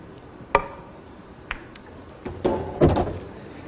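Clunk of a pool cue striking the ball in a professional 8-ball match between Efren Reyes and Mike Sigel, a sharp knock followed by a few more scattered clicks and knocks of balls, fairly close and quiet.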